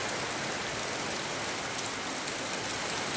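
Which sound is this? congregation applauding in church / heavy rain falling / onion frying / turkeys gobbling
heavy rain falling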